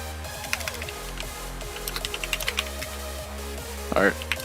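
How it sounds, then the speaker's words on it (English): Rapid clicking on a computer keyboard, typing into chat during an online esports match broadcast; steady, close keystrokes run throughout over a low hum, with a brief louder burst near the end. "I'm typing in chat, guys."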